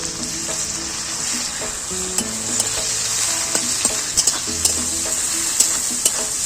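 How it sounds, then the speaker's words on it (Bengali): Chopped onions with a pinch of salt sizzle steadily in a hot pan, with occasional stirring clinks and scrapes over the continuous frying hiss. "এবারে ওতে আমি পেঁয়াজ কুচি দিয়ে দেবো। একটু নুন দেব যাতে পেঁয়াজটা নরম হয়।"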